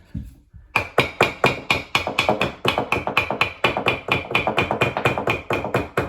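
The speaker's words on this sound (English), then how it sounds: "Mallets, round mallets especially, are the king." A round mallet strikes a sink under a granite countertop in a rapid, steady series of about twenty sharp taps, close by and fairly loud, with no talking.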